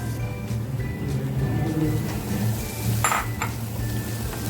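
Dried shrimp (jawla) tipped into a pan over low heat after a pinch of turmeric, giving a steady low sizzle with clinks of a utensil against the pan, plus a brief brighter rattle near the end.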